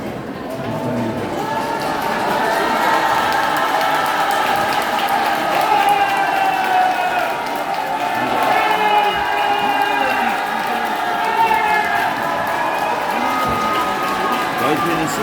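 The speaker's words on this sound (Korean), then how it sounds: "여러분들의 함성은 익히 다 알고 있을 겁니다" A crowd at a press conference on abolishing party nomination power keeps up a steady roar of cheering and shouting, with whoops and sustained voices over clapping, loud and continuous throughout.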